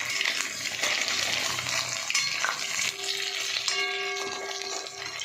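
Pakoras deep-frying in hot oil make a loud, dense, continuous sizzle and crackle, with a few light clinks of a utensil against the pan partway through.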